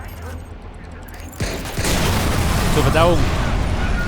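A grenade detonates in Watch Dogs with a sudden booming blast that swells into a sustained rumbling roar, while someone speaks German over it.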